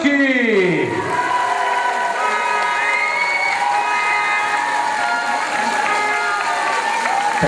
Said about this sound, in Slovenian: sedaj pa en velik aplavz za ekipo Zajčki!